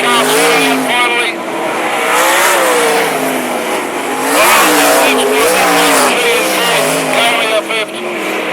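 Sprint cars race at Mac's Speedway in 2010, loud droning engines rising and falling as they pass, with a track commentator talking continuously over the roar.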